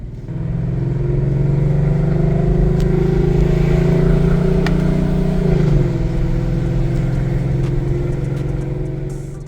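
A Mercedes E63 AMG engine hums loudly and steadily while driving, with a smooth sustained drone that shifts in pitch midway and no talk.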